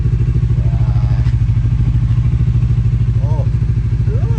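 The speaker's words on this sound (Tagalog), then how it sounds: "Papatay na natin yung motor kasi binuhay lang natin." A motorcycle engine idles steadily with a fast, even putter throughout, loud and close, with a few faint voices underneath.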